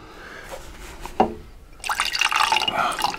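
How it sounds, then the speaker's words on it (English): A drink is poured into a cup. A few faint drips come first, then a brighter, louder splashing pour fills the last second and a half. "Just pour me a drink."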